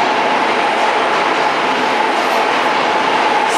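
A New York City MTA train roars steadily and loudly, a dense continuous rumble and hiss with no breaks, close by, from the street while walking toward 14th Street in Manhattan.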